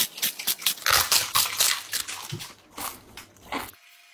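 A giant cinnamon crunch cereal piece is bitten and chewed up close. The crisp crunches come in a quick, uneven run, then the clip goes silent near the end.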